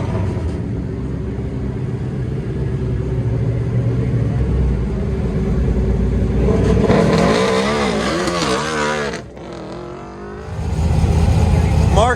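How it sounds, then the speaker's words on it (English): A Pontiac GTA runs an autocross course, its engine a loud, sustained roar rising and falling through accelerations and gear changes, heard close with a brief dip before surging again, mixed with announcer talk. "Mark Lovin driving one bad GTA."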